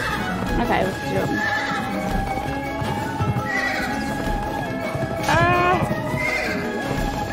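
A horse in the video game Pumpkin Jack whinnies several times over rhythmic galloping hoofbeats, with a sharp neigh near the end, while a player talks over the game audio.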